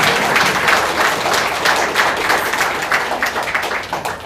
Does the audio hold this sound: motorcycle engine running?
no